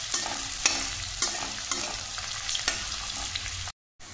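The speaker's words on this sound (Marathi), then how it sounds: "ते व्यवस्थित आपल्याला तळून घ्यायचे आहेत, ब्राऊन होईल तोपर्यंत त्यांना व्यवस्थित भाजून घ्यायचं आहे" Finely chopped onions fry in a pan for anda bhurji, a steady close sizzle broken by scraping stirs from a spatula, ending in a brief drop to silence.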